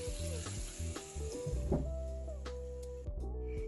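Lazy cabbage rolls frying over moderate heat in a covered pan, a steady close crackling sizzle with faint ticks and clinks running throughout, no voices.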